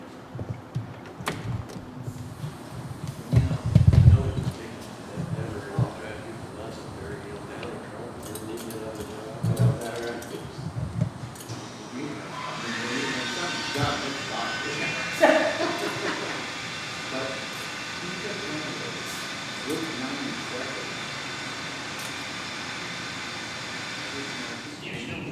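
A 1912 Premier 6-60 Roadster engine turned over on compressed air, a heavy hiss and mechanical chugging that settles into a steady rushing sound, with people talking over it.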